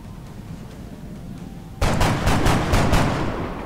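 Gunfire in the video game XCOM: Enemy Within: a quiet stretch gives way to a loud, sudden burst of rapid shots that continues in pulsing volleys to the end.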